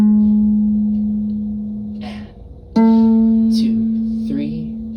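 Plucked ukulele notes held as long whole notes, with two sustained tones ringing with clear harmonics, the second struck sharply near the middle and decaying slowly under faint background noise.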